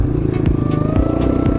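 A 2003 Honda CRF230F dirt bike's single-cylinder engine idles close by with a low, even thumping beat, a few sharper pops and ticks breaking through the rhythm.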